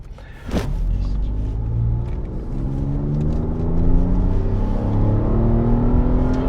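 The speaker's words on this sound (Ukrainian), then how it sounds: "Дуже така приємна тяга атмосферного двигуна" A Lexus RX 350 with a naturally aspirated engine accelerates, heard from inside the cabin as a loud, steady engine drone with rising tone that holds strong throughout.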